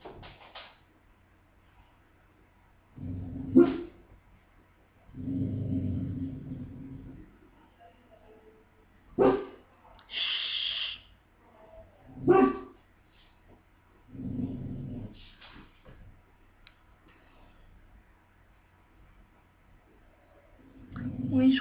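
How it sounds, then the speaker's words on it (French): A pet dog indoors gives several separate, muffled barks at irregular intervals, each short and mid-loud, with quiet gaps between them. "Désolée, vous entendez mon chien."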